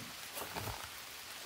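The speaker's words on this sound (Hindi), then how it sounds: "बारिश हो रही है क्या?" Steady rain hisses in the jungle survival game Green Hell, a soft, even wash of droplets with no talk over it.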